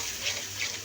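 A pre-mixed spice paste is poured into a pan while cooking shrimp heads with taro stolons, giving a brief, soft, wet pouring rush close by.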